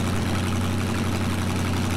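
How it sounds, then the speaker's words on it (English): A truck engine idles in the SnowRunner video game with a steady, continuous low rumble and drone, close and even throughout. No talking is heard. "That loud ass engine start back up."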